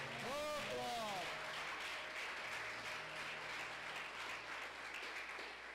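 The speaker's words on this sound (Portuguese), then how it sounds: "Vamos aplaudir o Senhor." A church congregation claps together in sustained, even applause that fills the room for several seconds, while a voice sings or calls briefly over it at the start.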